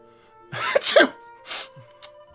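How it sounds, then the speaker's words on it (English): Dragon Quest 11 character sneezing after spilled pepper: a loud, close, drawn-out sneeze followed by two quicker, softer sneezes, each standing alone. "Now I cannot stop sneezing."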